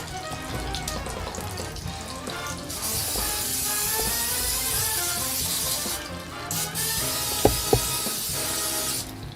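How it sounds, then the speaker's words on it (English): A loud hissing spray of cooking oil onto a waffle iron runs in two long bursts close by, with clattering and a couple of sharp taps beneath. "Let me spray this guy first."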